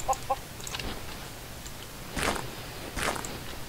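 Blocky Minecraft chickens cluck in short, faint bursts amid soft in-game footsteps, with a few brief clucking calls spread across the moment.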